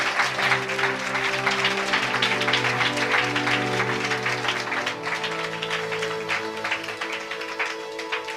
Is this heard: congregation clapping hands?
yes